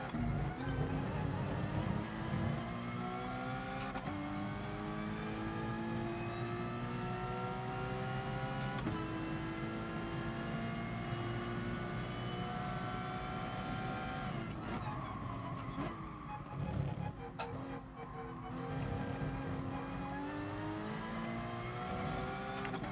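A Porsche Cayman race car in Gran Turismo Sport, its engine droning steadily with rising and falling revs through gear changes, heard continuously at moderate level over the whole stretch.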